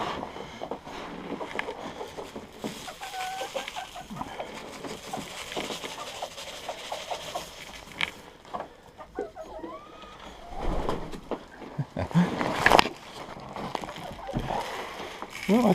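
Hens cluck and murmur in a freezing winter coop at minus 21 degrees C, soft and scattered beneath a person talking, with rustling and a few louder knocks near the end.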